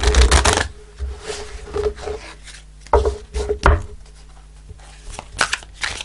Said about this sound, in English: let's do a couple of shuffles